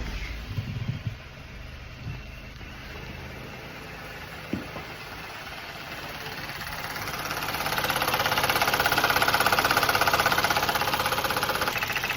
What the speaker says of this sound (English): the engine had a bit of a concerning tapping noise